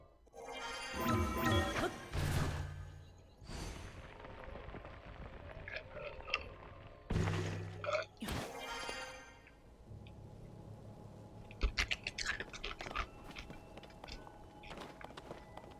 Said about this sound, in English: Not sure why they put all this ice crunching noise in the game.